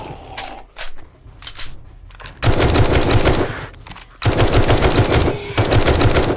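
Rapid machine-gun bursts fired at zombies in the survival video game 7 Days To Die, loud and close, with a few short cracks early on followed by two long sustained volleys separated by a brief gap.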